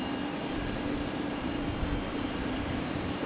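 A Lufthansa airliner approaches Raleigh-Durham airport from the east, its engines a steady broadband roar that holds at a constant level throughout, with no voices.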